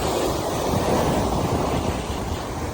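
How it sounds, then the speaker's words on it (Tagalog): Ocean waves wash onto a beach in a steady, loud rush of surf, mixed with wind blowing across the microphone. No one speaks. "Dako kayo ang dagat."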